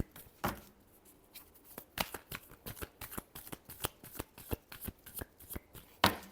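Tarot cards are shuffled close up, a rapid series of crisp riffling snaps and flicks that repeat unevenly over several seconds, ending with a sharper tap.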